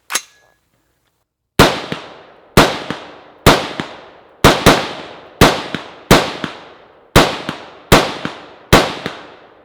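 Ten loud rifle shots fired through an Aimpoint CompM4S-equipped rifle ring out at a steady, slightly uneven pace, each a sharp crack with a short ringing decay, after a brief quiet pause.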